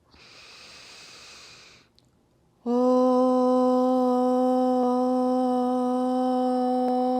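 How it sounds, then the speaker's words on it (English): In a grounding vinyasa yoga class, one long, airy breath rushes steadily for about two seconds, followed by a short pause. Then a loud, sustained sung chant begins. "let's take a full breath in through the nose and then an open mouth exhale"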